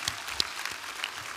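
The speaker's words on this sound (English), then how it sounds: "let's give them all a round of applause" Faint, distant applause from a crowd at a university graduate commencement ceremony, a steady wash of clapping with a few sharper claps standing out.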